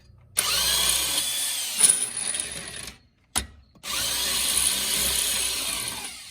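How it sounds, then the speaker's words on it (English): Impact wrench working a stuck lower control arm bolt on a Jeep XJ Cherokee, two loud sustained hammering bursts close up with a brief pause and short blip between, no talk. "we're going to try to get it to unthread using the impact"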